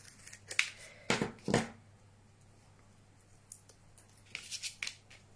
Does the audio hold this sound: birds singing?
no